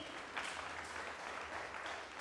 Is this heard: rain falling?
no